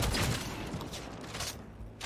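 Rapid bursts of gunfire from the video game Cyberpunk 2077 crackle in quick succession, loud and close at first and then easing into scattered shots.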